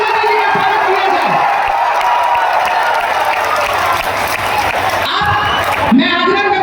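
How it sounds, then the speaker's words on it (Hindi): A large crowd at a public welcome for Prime Minister Narendra Modi breaks into loud, sustained applause and cheering, dense and continuous throughout, with scattered shouts rising near the end. "करतब ध्वनि के साथ जोरदार तालियों के साथ प्रधानमंत्री जी का स्वागत किया जाए।"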